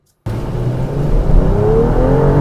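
A BMW X5 M engine bursts to life after a brief silence and revs hard under acceleration, a loud, close, rising growl that holds strong to the end.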